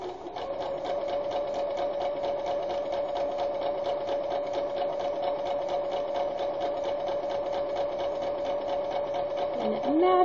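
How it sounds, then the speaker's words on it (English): Sewing machine stitching shirring on fabric, a steady fast mechanical whir with a constant motor tone running nearly unbroken for ten seconds, then slowing at the end. "And go ahead and start stitching again."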